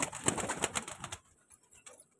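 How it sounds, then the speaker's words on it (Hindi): Fighter pigeons in a cage give soft, faint coos and rustles for about a second, followed by near silence. "और इस पिंजरे में भी फाइटर कबूतर हैं जी माशाल्लाह।"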